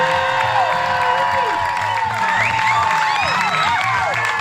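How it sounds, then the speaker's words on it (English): Wedding guests cheer for the entrance of the bride and groom, a dense crowd roar thick with whoops and high shouts that stays loud and steady all the way through, with applause buried beneath the voices. "Keep that going, keep that applause going"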